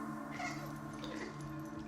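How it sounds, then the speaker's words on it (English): A cat meows in a horror movie scene, a clear close mew rising over a steady tonal music bed, with no voices. "Oh, kitty."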